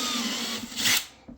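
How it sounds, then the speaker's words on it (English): A power drill whines steadily for about a second while boring a hole a little deeper during a DIY radio repeater build, then winds down and stops, heard up close with no talking. "we have to drill it just a tiny bit more."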